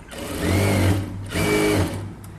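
A sewing machine runs steadily for about two and a half seconds at close range, its motor hum swelling twice. It is straight-stitching a blouse, and no voice is heard.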